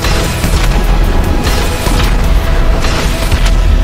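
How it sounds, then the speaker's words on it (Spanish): A heavy in-game explosion in GTA V on PS3, a deep sustained boom and rumble that stays loud and dense for the whole stretch, with no voices over it. "Esa onda, chavales, es la onda expansiva de la explosión"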